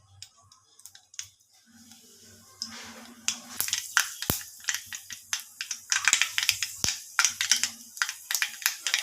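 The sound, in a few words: mustard seeds spluttering in hot oil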